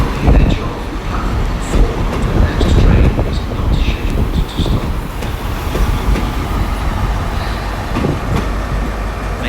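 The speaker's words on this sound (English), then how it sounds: "there's a freight train now coming through" A freight train rolls through Exeter St David's station on a Sunday afternoon with a loud, continuous rumble and rattling wagon clatter close by, and a few faint voices underneath.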